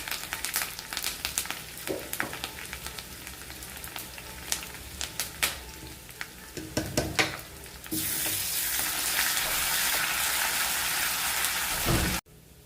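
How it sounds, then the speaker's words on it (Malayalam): Onion, dried chilli and curry leaves sizzle in hot tempering oil for a Kerala raw mango curry, a close, steady hiss with spitting crackles that swells into a loud, dense fry partway through before cutting off abruptly. "നമുക്കിതിനകത്തോട്ട് ഉള്ളി ഇട്ട് കൊടുക്കാം. ഉള്ളി ഒന്ന് മൂത്ത് വരുമ്പോഴത്തേക്ക് നമുക്ക് ഉണക്കമുളകും ഇട്ട് കൊടുക്കാം"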